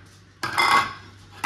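A wooden utensil is set down on a plate in a home kitchen while cooking, a single clear clatter of wood on ceramic that rings briefly before fading, close and loud with no talking.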